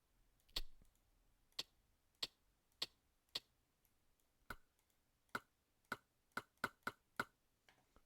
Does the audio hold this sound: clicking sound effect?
yes